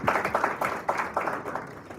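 A short burst of applause, a small group clapping in quick, uneven rhythm for about two seconds at a student leadership symposium.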